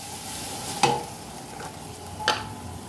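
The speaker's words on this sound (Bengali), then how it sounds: "তারপরে ভালো করে নাড়লাম" Spoon scraping through cumin and coriander powder with tomato in a pan, two distinct stirring scrapes over a faint background sizzle.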